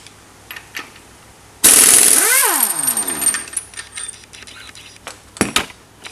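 An impact or air tool zips the harmonic balancer bolt off an LS engine in one loud, sustained burst, its whine sweeping down as the bolt frees, followed by quieter clatter and a few sharp knocks.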